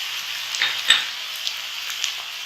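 Ginger garlic paste with turmeric and spices sizzling in hot oil in a pan, a soft steady frying hiss with a few light scrapes and clinks of a spoon, close and fairly quiet.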